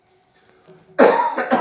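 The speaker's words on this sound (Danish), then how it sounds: "Det kommer lige til at hoste lidt." After a quiet stretch with a faint tone, a single close cough breaks out and then trails into a second, shorter rasping cough.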